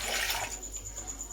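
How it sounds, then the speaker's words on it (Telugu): Water is poured from a pot into a vessel, a brief close gush of splashing that quickly tapers into faint trickling. "ఒక చెంబు వాటర్ పోసుకుంటున్నాం"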